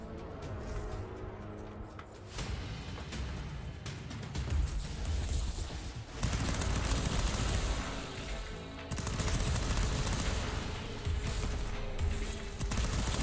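Rapid gunfire from the side-scrolling action game Fury Unleashed, in a fight against a tank miniboss, running dense and continuous for the whole stretch, with bursts swelling louder around the middle and toward the end.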